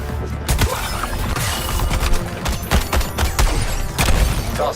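A shoulder-mounted weapon firing in Suicide Squad: Kill the Justice League, heard as a dense, loud barrage of shots and impacts with thumping booms in a chaotic battle, close and continuous throughout.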